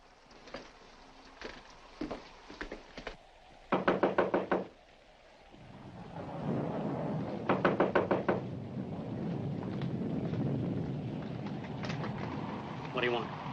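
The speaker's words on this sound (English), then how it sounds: "there's someone at the front door" Knocking on a front door comes in several clusters of sharp, fairly close raps, with a low rumbling background between them.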